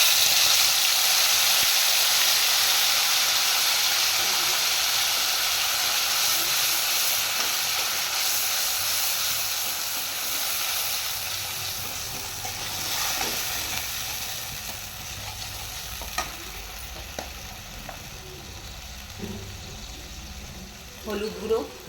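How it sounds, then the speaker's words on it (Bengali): Green chili paste, tomato and black cumin sizzle in hot oil in a pan while a pabda fish curry is being made; a loud, steady frying hiss slowly fades, with small pops and crackles later on. "আর টমেটো আর কালো জিরে আর এখানে কাঁচা লঙ্কা পেস্টটা আমি এর মধ্যে দিয়ে দিচ্ছি।"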